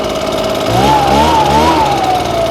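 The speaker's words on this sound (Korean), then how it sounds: "악셀레이터를 올리면 엔진 RPM이 올라갑니다." An MB990 engine leaf blower revs as the throttle lever is worked, its engine pitch rising and wavering up and down over a steady close, loud drone.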